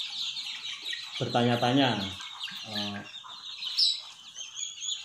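Young chickens around 15 to 21 days old clucking and calling in a short burst of close, harmonic cackles, heard over a steady bird-chatter backdrop with a brief spoken word mixed in.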